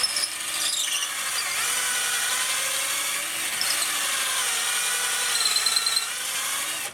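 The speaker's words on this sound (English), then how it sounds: "I could drill through the side of the flute" A power drill whirs steadily into a wooden branch flute, a continuous high grinding buzz close up that runs the whole time and then stops.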